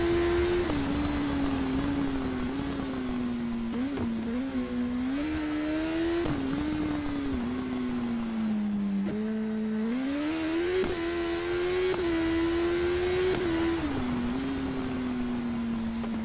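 A BMW S1000RR superbike engine roars continuously through the TT Isle of Man course in the game, its pitch dipping and climbing with each gear change and throttle lift, loud and close, with no talking.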